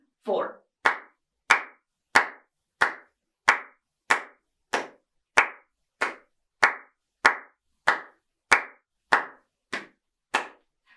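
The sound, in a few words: hand clapping keeping the beat for saxophone practice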